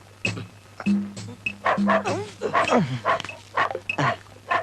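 A man imitates a dog with his voice, giving a run of loud, close barks, yips and growly yelps in an uneven rhythm over a faint steady hum.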